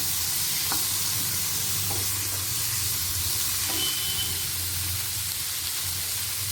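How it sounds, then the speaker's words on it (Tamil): Chopped tomatoes sautéing in a pan for bread biryani give off a steady, moderately loud sizzle and hiss, broken by a few faint clicks of stirring and no talk. "தக்காளியை நல்லா வதக்கிக்கலாம்."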